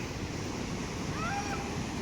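Steady broadband rush of water at Athirappilly waterfall, a loud continuous roar filling the whole clip with no pauses, heard close to the falls.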